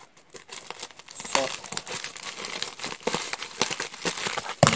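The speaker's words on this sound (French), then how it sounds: "Je vais ouvrir les paquets." Plastic packaging from an AliExpress haul being opened by hand, with busy, close crinkling and several sharp tearing bursts that build and stay dense throughout.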